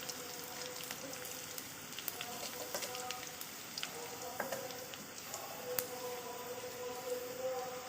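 Black and white cumin seeds fry in hot oil with a steady, crackling sizzle and occasional sharper pops throughout.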